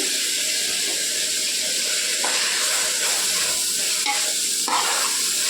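Ginger garlic paste frying with vegetables for veg fried rice, a steady loud sizzle with stirring scrapes and a few clinks of the spoon against the pan, no voices.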